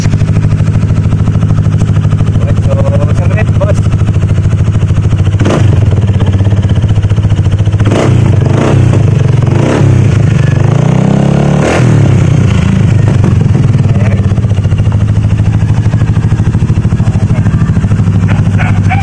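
A Kymco Xciting 400 scooter fitted with a Yoshimura R77 slip-on exhaust idles with a deep, loud rumble, then gets blipped several times into short roaring revs that fall back to idle.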